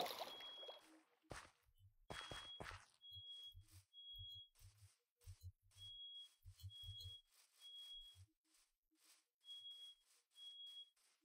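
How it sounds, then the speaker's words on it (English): Smoke detector or fire alarm giving short high electronic chirps at irregular intervals inside a Minecraft Hardcore world, mixed with game footsteps and thuds, fairly faint and with no talk over it. "fire alarm, smoke detector, whatever."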